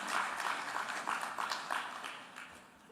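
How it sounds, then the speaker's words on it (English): A conference audience applauds, steady clapping from a sizeable crowd that swells and then gradually fades. "you all deserve a round of applause"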